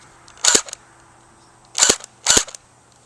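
A cheaper H&K MP7 replica airsoft gun fires three sharp, snappy shots close by, with gaps between them.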